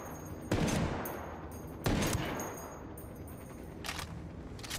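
Two loud, sharp gunshots from a powerful weapon in Ghost Recon Wildlands, about a second and a half apart, each with a ringing decay, followed by fainter distant shots.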